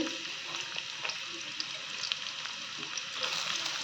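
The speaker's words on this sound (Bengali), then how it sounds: "তেলটা হয়তো গরম হয়ে গেছে আমি পেঁয়াজটা এখন ছেড়ে দিচ্ছি" Onions sizzling steadily in hot oil, a dense continuous frying hiss with small pops, moderately close and without talk.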